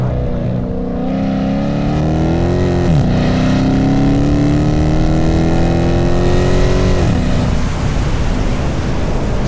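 A straight-piped, widebody Dodge Charger R/T with a 5.7 engine revs loud and close, its raspy exhaust rising and falling in pitch twice over a constant rumble.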